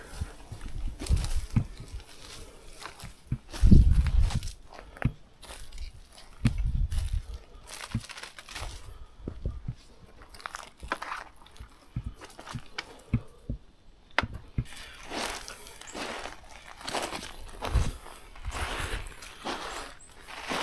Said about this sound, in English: It's just too loud on this gravel.